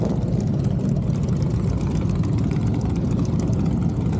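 A Harley-Davidson Sportster motorcycle engine runs on a dyno at a bike testing event, a steady, loud low rumble that holds constant throughout without a break.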